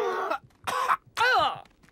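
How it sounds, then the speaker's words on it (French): Someone coughs with an uncovered mouth: three rough, voiced bursts in quick succession, close and fairly loud, the last one longest and almost groaning. "y a plus personne qui se couvre la bouche pour tousser de nos jours"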